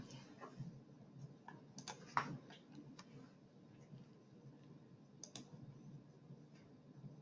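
Mouse clicks while a NetApp storage server is set up in auditing software, several sharp isolated ticks scattered over a low steady background hum, loudest near the middle, with no speech.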